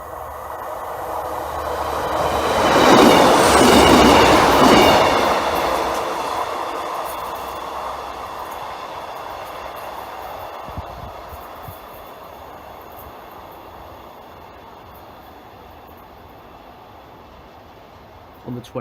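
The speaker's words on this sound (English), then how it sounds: "The 1300 hours Freightliner operated service from Barnetby to Nottingham" A Freightliner freight train running from Barnetby to Nottingham passes nearby with a loud roar that builds, peaks, then fades into a long, steady rumble of wagons rolling past.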